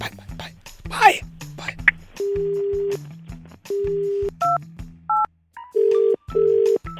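A sequence of electronic telephone keypad tones, short steady beeps of varying pitch, mixed with a phone line's background hum.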